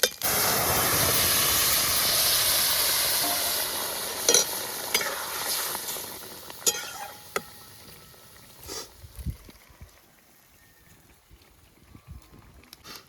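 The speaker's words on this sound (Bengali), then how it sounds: "এবার তেল গরম হয়ে এসছে, আমি এবার জিরে কটা ছেড়ে দেবো" Cumin seeds hit hot oil for a tempering, a loud close crackling sizzle at the start that fades and thins out, leaving scattered pops and faint hissing by the end.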